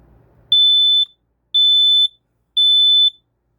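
A photoelectric smoke detector, model P19010, sounding its test alarm: three loud, piercing high-pitched beeps in an even rhythm, each about half a second long, with silence between them.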